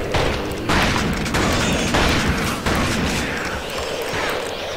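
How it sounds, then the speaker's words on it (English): A large explosion in The Thing video game booms loudly, followed by repeated heavy blasts and crackling roars that fill the space continuously for several seconds. "Oh my, quite the explosion."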